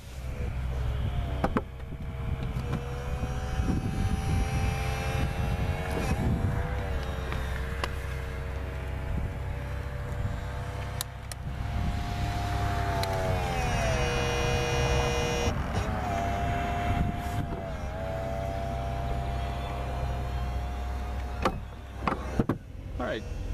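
Power convertible roof of a 2014 Corvette folding down, a steady electric motor whine with shifting mechanical tones running about twenty seconds under an idling engine hum, close inside the cabin.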